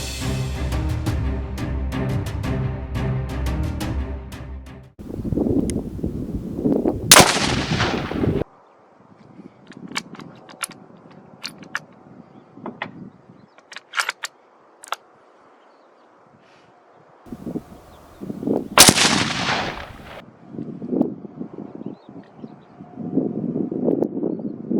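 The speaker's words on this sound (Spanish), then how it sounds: "Vamos a disparar a 100 metros justo." Rifle shots fired at a 100-metre range target through a KONUS scope: two loud, sharp cracks several seconds apart, each followed by a short echo, with wind noise and handling rustle between them.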